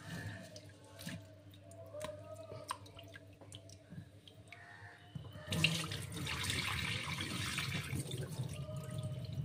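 Rice is rinsed in water at a kitchen sink. Soft splashes and drips come first, then a faucet gushes louder and steadily in the second half, close by and with no voices.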